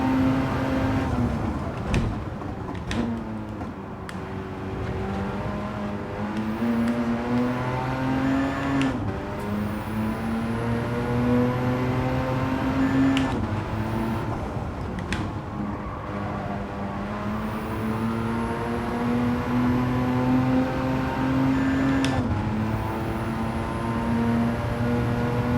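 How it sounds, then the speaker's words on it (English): Race cars in Gran Turismo 7 revving and passing on track, engines rising and falling in pitch through repeated gear shifts, loud and continuous with no talk. "when you pass cars, they really sound distinct and epic."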